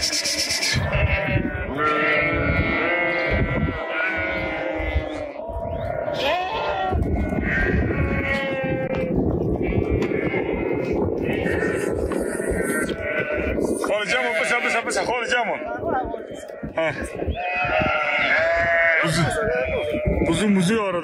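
A migrating flock of sheep and lambs in eastern Turkey, passing near Balıklıgöl lake, bleats continuously and close, with many overlapping calls while people talk among the animals.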